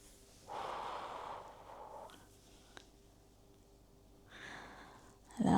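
A person takes slow, audible breaths while holding a glute stretch, drawing one knee toward the chest. Two long, soft airy breaths are separated by a quiet pause, with a sharper intake of air at the very end.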